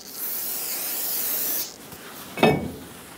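A spray cleaner hisses steadily onto the brake hub of a 2007-2014 Chevrolet Silverado 2500 HD for about a second and a half, then a short second burst follows, close and fairly loud.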